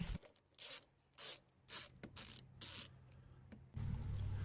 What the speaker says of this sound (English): Next we can loosen this clamp to the intake tube.